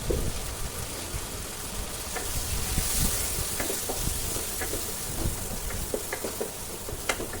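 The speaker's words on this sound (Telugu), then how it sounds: "కారం పొడి ఒకటిన్నర టేబుల్ స్పూన్ కారం పొడి వేసుకున్నాను మళ్ళీ మిక్స్ చేసుకుందాం" Mutton boti fried rice with mixed vegetables sizzles steadily in a pan as chilli powder is stirred in, with scattered clicks and scrapes of the spoon over a constant hiss.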